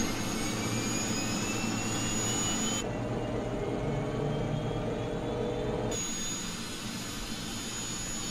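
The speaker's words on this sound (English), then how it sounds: "Get the engine started and let's get ready to go." A jet's engine runs in Microsoft Flight Simulator X, a loud, steady whining roar that holds for several seconds, its high hiss dropping away partway through and then returning.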